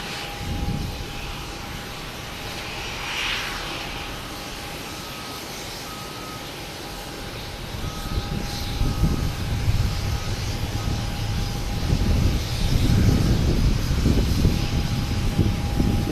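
A NetJets Cessna Citation Longitude business jet arrives at Boston Logan from Denver, its engine roar faint and distant at first, then swelling into a louder rumble over steady airport background noise.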